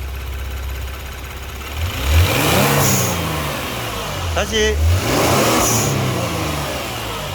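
A Genesis G70 3.3 engine revs twice, each rise followed by a sharp hissing whoosh from an HKS blow-off valve as the throttle closes; a voice speaks briefly between them.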